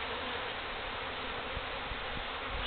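Feral honey bees swarm during a hive cut-out, a faint, steady hiss-like buzz of many insects at low level, with a few soft knocks beneath.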